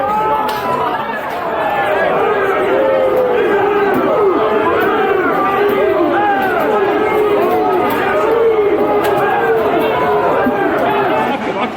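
A large protest crowd in Melbourne chatters and shouts as it breaks up, a dense, loud, continuous mass of overlapping voices with no pauses.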